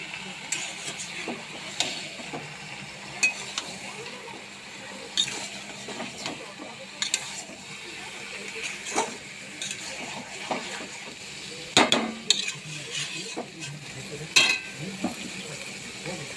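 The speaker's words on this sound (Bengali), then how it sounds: "এবার মোচাটা দিয়ে ভালো করে আমি একটু নাড়িয়ে চাড়িয়ে ভালো করে মিশিয়ে নিচ্ছি।" Chopped banana flower and prawns get stirred in a pan, with scattered scraping and clinking of a spatula against metal over a low sizzle, in uneven bursts with quiet gaps between.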